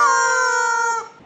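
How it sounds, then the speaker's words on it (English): A rubber chicken lets out one long, loud, strained squawk with a steady pitch, tapering off near the end. "We have not one, but 2 rubber chickens"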